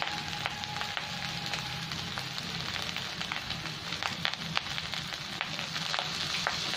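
Fried rice sizzles in a pan as soy sauce is added, a steady, close hiss of frying with scattered sharp crackles and pops throughout.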